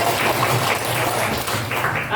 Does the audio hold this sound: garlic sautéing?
no